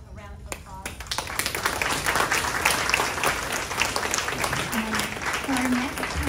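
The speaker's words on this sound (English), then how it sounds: "If you can give them a round of applause." Audience applause for a panel at a town hall on gun violence prevention, a dense, steady wash of many hands clapping at moderate loudness that swells after a brief start, with a voice speaking faintly over it.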